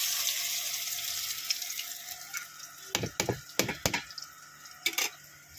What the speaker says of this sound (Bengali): এবার গোল গোল করে ভেজে নিচ্ছি আমি মূলোর বড়াগুলোকে